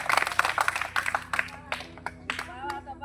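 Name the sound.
people clapping hands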